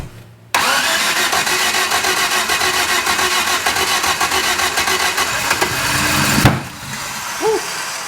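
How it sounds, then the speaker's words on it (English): A Toyota LJ20 engine cranks and catches, running loud and close with a steady rough idle for several seconds before shutting off abruptly; no one speaks. "You want to go crank on it, Kenner?"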